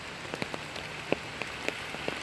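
Rain falls steadily as a soft hiss, with individual drops tapping sharply on a nearby surface at irregular intervals.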